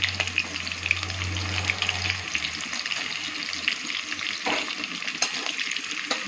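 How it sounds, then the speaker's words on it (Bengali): Chopped green chillies fry in a pan with a little salt, giving a steady bright sizzle throughout, with a low hum in the opening seconds and occasional soft clinks of stirring. "কাঁচা লঙ্কাটা আমি কেটে রেখেছিলাম, এটা আমি ভালো করে একটু ভেজে নেবো।"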